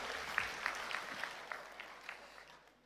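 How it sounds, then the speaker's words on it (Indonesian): A faint round of audience applause at a public event in Banten, scattered claps blending into a soft wash that fades out over a few seconds. "Boleh tepuk tangannya dulu Bapak Ibu hadirin yang berbahagia di tempat ini."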